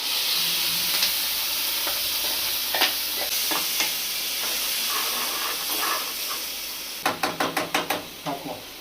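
Garlic and curry leaf paste sizzles in a hot pan for tomato chutney, a steady hiss with occasional stirring scrapes, then a quick run of sharp spoon clinks against the pan near the end.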